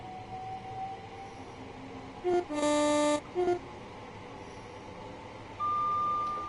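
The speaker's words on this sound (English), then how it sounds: "That's why the horn sound cuts off a lot as well." Train horn from the Train Sim World 4 video game, sounding in short clipped blasts that cut off abruptly over a low background hum, moderately close, with a separate tone near the end.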